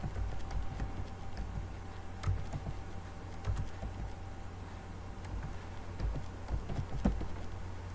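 Fingers type a command on a computer keyboard, a quiet, irregular patter of soft key clicks spread over a low background hum.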